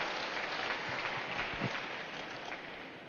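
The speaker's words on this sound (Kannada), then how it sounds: "ಒಮ್ಮೆ ಜೋರಾಗಿ ಚಪ್ಪಾಳೆ ತಟ್ಟ" Steady applause from an audience at a spiritual gathering, a dense, even wash of clapping that holds for about three seconds and eases slightly toward the end.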